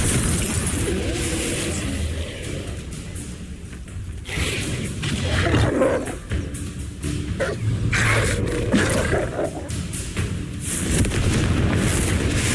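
Confringo explosion spell in Hogwarts Legacy: loud, dense blasts and crackling bursts over continuous rumbling combat noise, with repeated booming impacts spread across the stretch and no clear speech.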